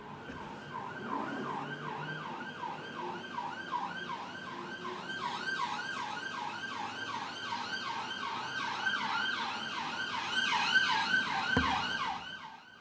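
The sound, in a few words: emergency vehicle siren passing in the street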